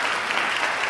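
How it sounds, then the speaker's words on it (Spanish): Warm, continuous applause fills an award ceremony hall as the audience cheers the Batuta by Pablo Polanco performers off the stage at the INTEC Outstanding Graduate Award event. "Nuevamente ese caluroso aplauso para él y para ellas."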